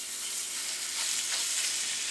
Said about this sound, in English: Let's go ahead and add about another 1 to 2 tablespoons of oil in the pan. And then we can go ahead and add in our meat.